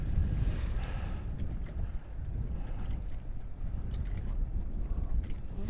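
Strong gusts roar across the microphone outdoors on eastern Long Island, a heavy, continuous rumble with surging buffets throughout and no voices.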